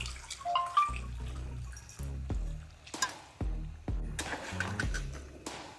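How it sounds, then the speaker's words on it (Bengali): Hot water is poured from a container into a pot of mutton curry with fried potatoes at an outdoor picnic cookout, giving several separate glugging, gurgling pours with short pauses between them. "এই হচ্ছে গরম জল আমি গরম জলটা দিয়ে দেবো"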